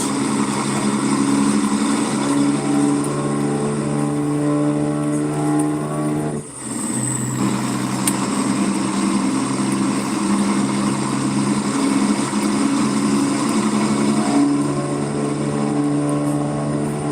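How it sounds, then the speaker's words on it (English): Loud, steady engine drone from a straight-pipe, open-stack truck exhaust in American Truck Simulator, holding a constant pitch throughout with a brief dip midway, no voices over it. "That sound is straight pipe, open pipe."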